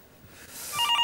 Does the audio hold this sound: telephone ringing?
yes